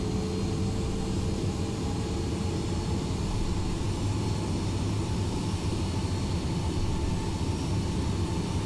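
A steady, continuous airliner jet engine rumble while taxiing in the X-Plane flight simulator, with a broad airy hiss, holding an even loudness throughout with no voices.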